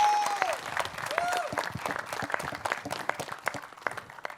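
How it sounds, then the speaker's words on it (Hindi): An audience at a press conference breaks into applause, a fairly loud wash of many hands clapping that fades toward the end, with voices talking over it. "एक बार जोरदार तालियां यार।"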